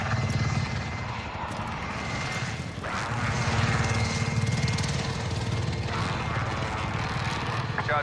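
A helicopter in the Call of Duty Warzone game, on the Verdansk 84 map, whirs with a steady broadband rotor drone that holds at even loudness throughout, with game noise and some voice underneath.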